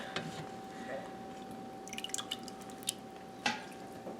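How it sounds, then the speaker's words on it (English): Beef bone broth drains out of an Instant Pot, with faint irregular drips and a few small splashes over a steady low hum, one sharper splash standing out near the end. "I'm going to let all that broth drain down in there."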